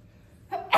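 A single short sneeze bursts out near the end after a quiet moment.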